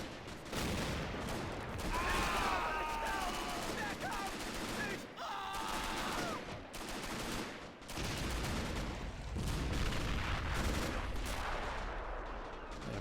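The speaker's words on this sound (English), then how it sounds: "There is actually a flak 88 active here by the intersection. And it's going to be firing at the infantry." Gunfire from a Flak 88 shelling infantry in a Stalingrad battle video game, with a continuous barrage of shots and blasts, some nearer and louder, under a dense battlefield din.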